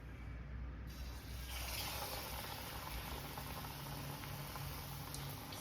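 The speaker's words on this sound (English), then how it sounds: "Now we'll fry them." Vada for Mumbai vada pav frying in hot oil in a pan, a steady dense bubbling sizzle that holds throughout at low level.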